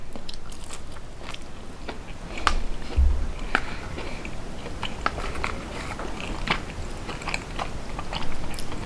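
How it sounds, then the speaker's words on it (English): Close, crisp bites and steady chewing of a sliced, flattened fried chicken thigh from a Hawaiian okazuya, with soft crunches recurring through the whole clip and no talk. "And we'll try out this piece of fried chicken."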